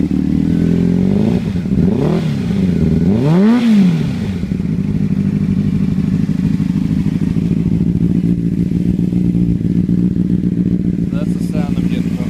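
A Honda CBR600RR motorcycle with a cylinder misfire revs up and drops back twice. It then settles into a steady, rough, loud idle recorded close to the engine.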